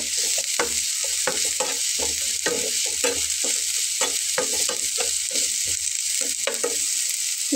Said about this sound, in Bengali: আর পেঁয়াজটাকে একটু লাল লাল করে ভেজে নেব।